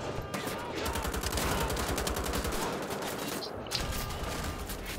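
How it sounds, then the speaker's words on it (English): Gunfire fills the scene in Wolfenstein: The Old Blood, a dense run of repeated, rapid shots with a double barrel shotgun blast among them, loud and continuous, with a brief gap partway through. "Double barrel shot."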